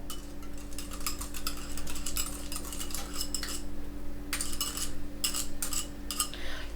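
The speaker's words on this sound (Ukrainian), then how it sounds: "Яйця я збиваю." A whisk rattles quickly against a bowl, beating eggs with sour cream, in busy bursts, pausing briefly before resuming, over a steady low kitchen hum.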